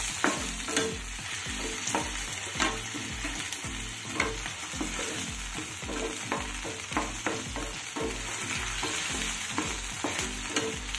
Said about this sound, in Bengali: এবার সবটা নেড়ে চেড়ে একটা সিরাপ মতো বানিয়ে নিতে হবে।